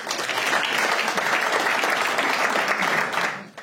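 A comedy club crowd at a stand-up night claps in a short, steady burst of applause, fairly loud and close, that cuts off abruptly at the end.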